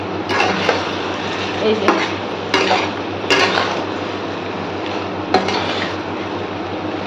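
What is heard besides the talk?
stirring chicken being sautéed in a pan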